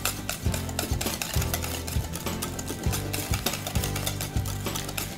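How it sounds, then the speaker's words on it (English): A utensil briskly stirring biscotti batter with sweetener in a mixing bowl, producing a steady run of close, rhythmic scraping and clinking strokes with no talk. "I'm gonna mix that up."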